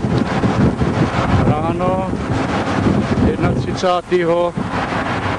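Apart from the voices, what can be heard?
wind blowing on a windy day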